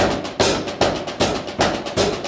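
Accented drum strokes played in a steady triplet pattern, with a sharp loud hit recurring about every 0.4 seconds over quieter notes between, close and alone.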